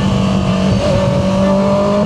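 A Honda CB650R motorcycle with e-clutch and quick shifter runs loud and close, its engine note blipping up sharply in pitch partway through a steady revving drone.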